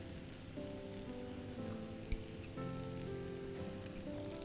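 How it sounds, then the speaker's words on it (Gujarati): Red chili sauce added to Jain Mysore masala dosa filling in a pan, giving a soft, steady sizzle with faint crackles and one brief tap, fairly quiet throughout. "હવે આપણે એની અંદર જે રેડ ચીલી સોસ છે એ નાખશું."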